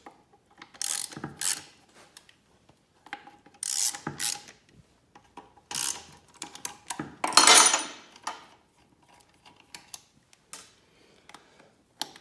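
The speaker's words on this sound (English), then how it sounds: "remove the throw-up bearing by loosening up these 4 Torx screws" Torx screws being loosened with a ratchet on the throw-out bearing of a Honda F23 five-speed transmission: several short bursts of clicking and metallic ratcheting with pauses between them, close by, no talking.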